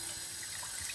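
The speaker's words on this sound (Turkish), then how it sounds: "Şu an gördüğünüz gibi fan motoru nasıl yıkanıyor?" Water rushes steadily over the fan motor of a combi boiler being washed after 18 years without maintenance, a constant close hiss with no break.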